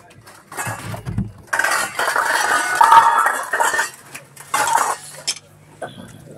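A pressure cooker and its lid being handled in a village home kitchen, with metallic clinks, scrapes and clatter in bursts, mixed with people chatting nearby.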